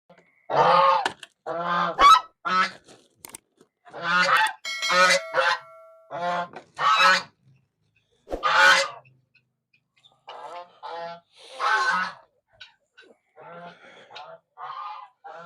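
Poultry squabbling on a farm on a cold winter morning, with repeated loud honking, squawking calls in uneven bursts, close up and mostly alone with only brief quiet gaps.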